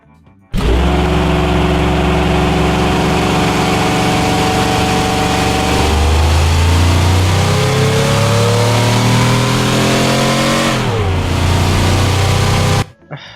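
A 1960 luxury sedan build in a video game, its engine revving hard around the Top Gear test track: a loud, sustained drone that climbs through the gears, easing and dropping at each shift.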